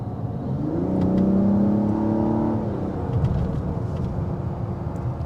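A 2025 Mazda CX-70 engine accelerates in Sport mode, heard from inside the cabin as a steady, rising hum with a smooth tone that holds for a couple of seconds before easing into a constant drone under road noise.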